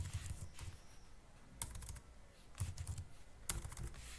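Someone types on a computer keyboard while coding in Python, with quiet, steady clicking and a few sharper key strikes spaced through the clip.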